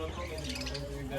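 Small parrots chirp near a decorated Ganesh temple, a faint, quick patter of high calls mixed with a soft human voice.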